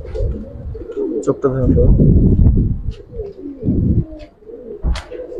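Old-breed Giribaz and Pagla Khaki pigeons cooing in a loft, low throaty coos repeating close by, partly under a voice speaking.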